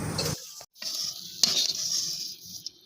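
A spoon stirs a besan laddu mixture with sugar in a pan, giving close, soft scraping and a faint sizzle for a few seconds, broken by a brief pause.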